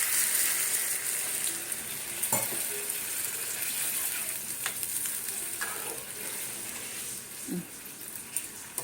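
Water pours into a pan of cooked banana flower and red lentil masala, a rushing hiss blending with steady loud sizzling and a few soft spoon knocks.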